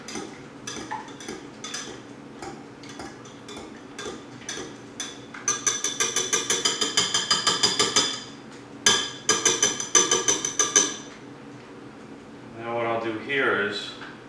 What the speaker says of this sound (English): And I'll just whisk this up.